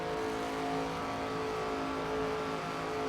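A stock car engine in the NASCAR 25 racing game, a steady, sustained high-revving drone held at full throttle with little variation, moderately loud.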